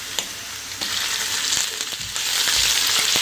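Ginger garlic paste sizzles loudly in hot oil with light-browned onions, a steady bright frying hiss punctuated by scraping stirs that intensifies toward the end.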